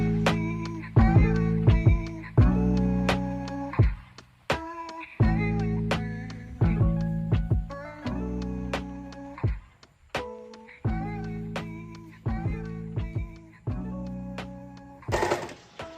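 A sewing machine stitching two layers of sleeve fabric for a dress runs in repeated close bursts of rapid mechanical whirring, about a dozen short runs separated by brief pauses, with a sharp click near the end.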